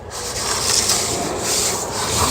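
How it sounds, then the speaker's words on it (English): Steel trowel dragged across drywall mud on a wall, a continuous close scraping rub with slight swells in intensity over a couple of seconds. "And so as we trowel, we're trying to lift up on the front leading side."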